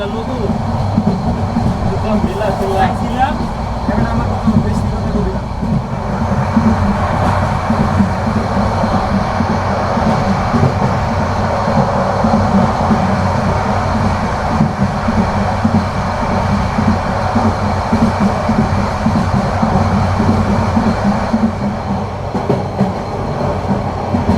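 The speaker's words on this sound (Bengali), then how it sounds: "Cox's Bazar express থ্রুপাস Kasba railway station" The Cox's Bazar Express rumbles through Kasba railway station, heard from on board as a loud, continuous roar of wheels and carriages with rhythmic clatter and occasional squeal, with a voice speaking over it.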